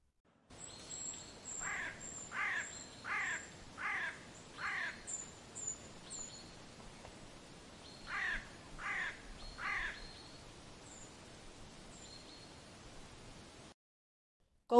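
A crow caws in two bursts of harsh, evenly spaced calls, five and then three, clear and moderately close over faint background hiss, with a thin high tone running through the start.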